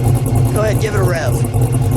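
The LS3 engine of a 1968 Chevrolet Camaro with a six-speed gearbox idles with a deep rumble, then gives a quick rev that climbs and falls. The car is close, and people talk over it.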